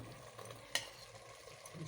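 Onions fry in a pan with a soft, steady sizzle, faint and close, broken by one sharp clack of a utensil partway through.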